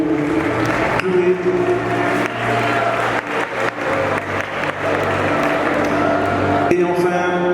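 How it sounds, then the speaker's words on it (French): An audience applauds as Miss Martinique Chloé Modestine is welcomed at a ceremony: sustained crowd clapping mixed with a low steady hum and voices, with a few sharper bursts. "Applaudissements pour Chloé."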